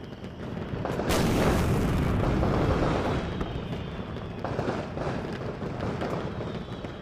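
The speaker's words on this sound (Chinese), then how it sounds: "刚才的烟花表演，好看吗？" Fireworks show outdoors, a dense wash of bursts and rumbling booms that swells loud after the first second and continues steadily with crackling, no talk over it.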